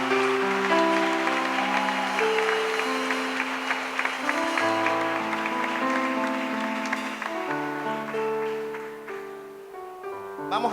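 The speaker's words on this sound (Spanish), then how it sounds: "Dale un aplauso al Señor" Church congregation applauding amid worship music: sustained clapping blends with loud held chords and melody throughout, the crowd noise carrying under the music at fairly close range.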